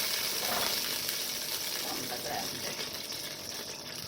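Onions frying in oil with garlic ginger paste in a pan, giving a steady close sizzle that runs without a break, with faint stirring underneath and no clear talking.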